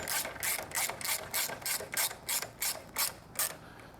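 A 12mm ratchet wrench clicks through about a dozen short, evenly spaced strokes, close and crisp, while tightening an exhaust nut on a Triumph motorcycle slip-on exhaust install.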